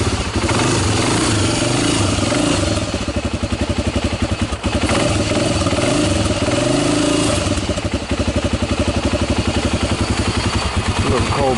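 A 1996 Honda TRX300EX ATV with a fresh carburetor runs steadily nearby, its engine putting out a continuous rough, rapid clatter that persists throughout without letting up.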